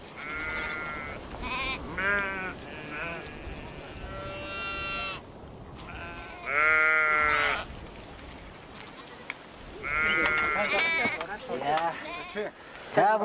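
Sheep and goats of a nomad herd at the foot of a mountain during late-winter lambing season bleat repeatedly, several loud nearby calls in bursts with short pauses, while people talk over them.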